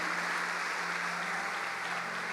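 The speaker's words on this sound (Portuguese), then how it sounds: "Dê um aplauso a Ele." A church congregation in Campo Grande claps together, a steady, fairly loud roar of many hands sustained for a couple of seconds, with a faint low hum beneath.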